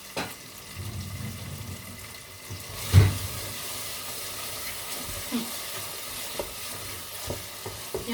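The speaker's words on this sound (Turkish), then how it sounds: "Yalnız salçayı iyice kavurayım." Tomato paste fries in a pan with a soft sizzle while a utensil stirs and scrapes, with a clunk of the pan partway through and faint clicks.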